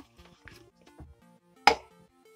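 A knife cuts through an apple being prepared for juice, giving one sharp, loud chop near the end after a quieter stretch with faint voice-like sounds.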